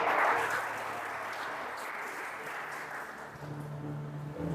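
A church congregation at a Portuguese-language worship service applauds, a soft wash of many hands clapping at a fairly low level, with faint sustained musical tones underneath.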